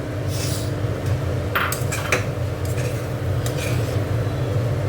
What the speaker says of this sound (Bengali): এবার কড়াইশুঁটিটা দিয়ে দিচ্ছি।